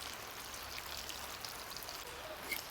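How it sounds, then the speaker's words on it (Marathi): Faint, steady hiss of rain falling outdoors, a soft continuous patter with scattered drips, distant and low in level, with no talking. "पाऊस चालू आहे चांगला"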